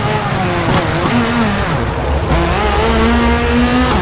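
Rally car engine revving hard through a handbrake turn in the WRC 4 racing game on PC, with a steady loud engine drone, shifting pitch and brief tire squeal, while a co-driver reads pace notes over it.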